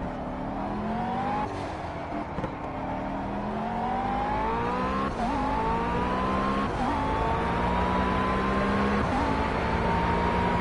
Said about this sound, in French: pourquoi je réaccélère à fond alors qu'il n'y a pas besoin?